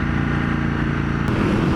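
A Ducati Multistrada motorcycle fitted with a Termignoni exhaust runs with a steady, loud, throaty engine drone, heard close and without talk for about two seconds.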